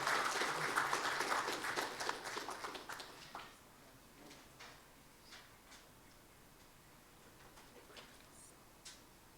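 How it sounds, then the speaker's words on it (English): An audience at an immigration law seminar claps in a short burst that dies away after a few seconds, leaving a quiet room with a few scattered clicks and taps. "if y'all can give them a round of applause for coming in"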